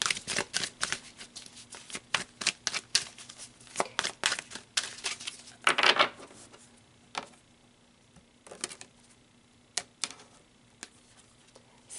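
A deck of tarot cards is shuffled and pulled close by, with bursts of rapid riffling and flicking clicks, then sparser single card snaps and taps with quiet pauses between.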